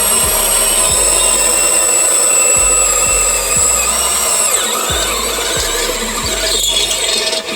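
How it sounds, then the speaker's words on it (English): Unibit drilling a pilot hole into a wheel barrel, a loud continuous whining squeal with a steady high-pitched tone and grinding texture, near and alone. "I'm gonna take my unibit there, and I'm gonna drill a pilot hole in the barrel that we do not need"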